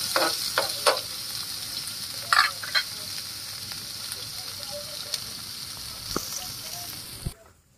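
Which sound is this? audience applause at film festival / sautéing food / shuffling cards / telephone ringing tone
sautéing food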